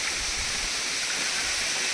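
Katiki waterfall flows nearby, producing a steady, dense rushing roar with no pauses or changes in level.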